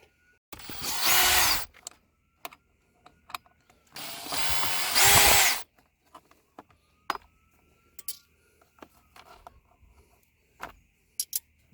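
Power tool driving screws out of the seat trim on a 2015 Toyota Highlander driver seat: two loud bursts of whirring drill, each a second or so long, then scattered small clicks and taps of parts being handled, no talk.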